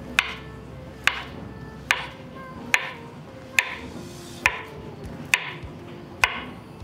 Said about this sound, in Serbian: Oljuštit ću jednu bananu. Pa ću je iseckati.